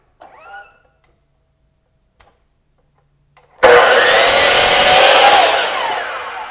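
A power saw cuts through a wood block for a pickleball paddle rack, a loud, sustained buzzing whine that starts abruptly after a short quiet stretch with a faint chirp and taps, then holds steady before easing off.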